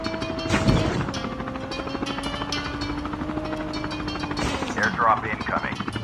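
Helicopter in Call of Duty Mobile battle royale, a steady droning hum that holds through the clip under game noise and gunfire-like bursts, with a voice talking over it.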